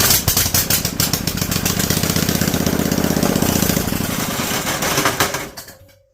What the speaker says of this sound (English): We know it's going to sputter